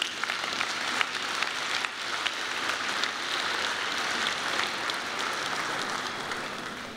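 Sustained applause from a large audience at an economic event, dense and steady throughout with no voices over it.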